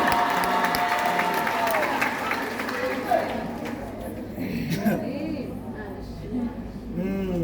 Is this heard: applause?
yes